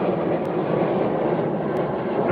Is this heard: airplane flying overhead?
yes